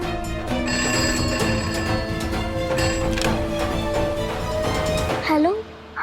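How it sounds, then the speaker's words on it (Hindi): A landline telephone rings in bursts of bright electronic trills during a Hindi TV drama scene, loud and clear over background music, cutting off as the call is answered. "लैंडलाइन पर फोन,"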